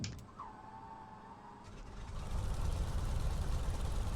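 The radial engine of a Beechcraft Staggerwing in MSFS2020 starts up: a whining starter winds up, then the engine catches and swells into a loud, rough, steady low roar.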